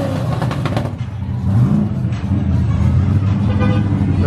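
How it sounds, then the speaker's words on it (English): Ford Mustang Fox body revving in a burnout box amid a crowded car event, a loud, sustained engine roar with crowd noise and voices around it. "Is the Fox body about to go in the burnout box?"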